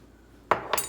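Two quick clattering strikes of a utensil against a bowl while beating cornflour batter seasoned with salt and white pepper, close and fairly loud, roughly a quarter second apart after a quiet start.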